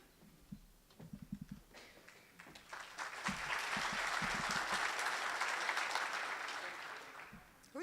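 Audience at a Rotary luncheon applauding, a sustained burst of clapping swelling after a few scattered claps and some talk, moderately close, then tapering off.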